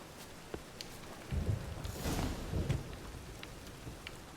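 Thunderstorm with rain in The Witcher 3 video game: soft steady rainfall with a low rolling rumble of thunder swelling mid-way, faint and distant, with no voices.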